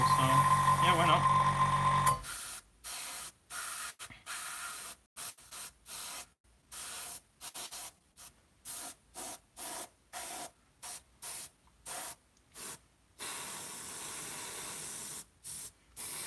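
An airbrush sprays in a long run of short, hissing bursts with brief gaps between them, close and steady, after a few seconds of louder continuous noise at the start.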